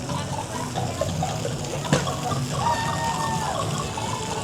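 Water sprays and splashes steadily at a splash pad at the Dollywood amusement park, a continuous moderately loud hiss with a brief sharper splash midway, surrounded by faint outdoor ambience.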